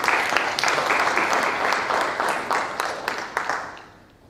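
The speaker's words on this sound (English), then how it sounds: "let's give a big round of applause for Sandra Fayol." An audience at a women in finance summit gives a speaker a big round of applause, with sharp, distinct claps over a dense patter that fades toward the end.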